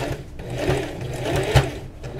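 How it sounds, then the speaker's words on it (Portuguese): Sewing machine stitching a seam on fabric for a scissors holder, a steady close mechanical whir with a rapid needle rhythm, running continuously and loud. "Vou na máquina e vou passar uma costura aqui, prendendo essa parte"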